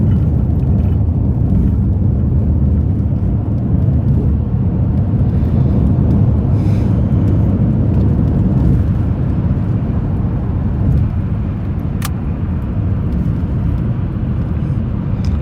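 Inside a moving car, steady loud road rumble and engine drone fill the cabin continuously, with a faint brief tone partway through and no talk.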